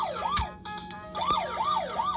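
VTech Go Go Smart Wheels toy ambulance sounding its electronic siren, a looping rising-and-falling wail repeated several times with sharp clicks, close and fairly loud with no talking.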